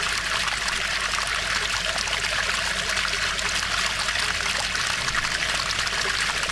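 Streams flow at Ratu Boko palace with a steady, even rush of water. The sound is constant and fairly loud, with no pauses and no voices.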